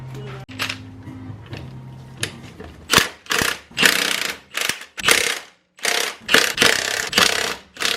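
Rapid metallic ratchet clicking in quick bursts, close and fairly loud, as the front passenger-side wheel comes off a jacked-up Toyota Tacoma, with a low hum beneath the early strokes.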